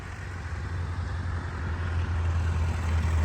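1920 pre-war motorcycle engine running as the bike approaches on a group ride, a low steady thumping drone that grows louder and closer.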